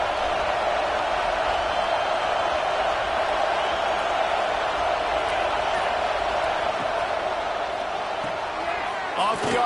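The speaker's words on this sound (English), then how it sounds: "This crowd rising up, sensing that its defense needs some help." Stadium crowd at a football game rising in a sustained loud roar, a broad wash of noise that holds steady throughout, with a commentator talking over it.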